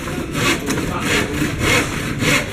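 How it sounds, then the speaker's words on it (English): A handsaw cuts through lumber at a construction site in Iloilo City, Philippines, loud close rasping strokes pushing and pulling in an even rhythm, about four strokes over a couple of seconds. "this is the way they cut the lumber in the Philippines. Just about everything's cut with a handsaw."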